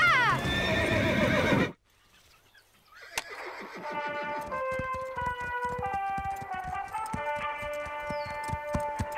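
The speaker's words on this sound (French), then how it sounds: "sur le dos d'un cheval terrorisé par une tempête" A shrill, frantic whinny from a horse terrified by a storm opens loudly, breaks off, then gives way to rapid galloping hoofbeats under a rising orchestral backing.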